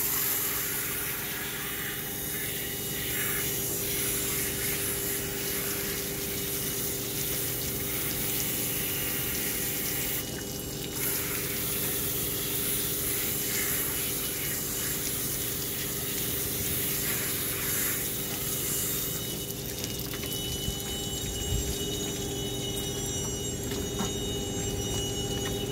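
A water spray rinses cleaner off EVA non-skid decking, producing a steady, continuous hiss and gush that stays loud and close throughout with no talking.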